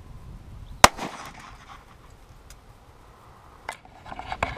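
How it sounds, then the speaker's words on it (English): A single sharp handgun shot fired with a hollow point round into a stack of laptops, followed by faint clicks and handling sounds in a quiet space. "So we're going to go ahead and shoot this and see how it does."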